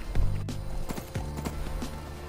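Horse hooves in the video game Skyrim, a rapid, fairly close clip-clop of repeated hoof strikes over a steady low game background.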